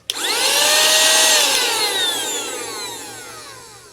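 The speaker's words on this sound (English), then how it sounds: "you can very quickly convert it to a blower, just like that, and you're ready to go" A Honlibey cordless air duster vacuum running as a blower gives a loud, high whirring whine that sweeps in pitch and gradually winds down, fading over several seconds.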